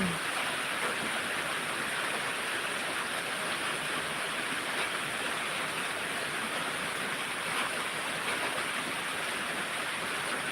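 Steady rainfall over a yard full of garden plants makes a dense, even hiss that runs unbroken and fairly soft throughout, with no voices.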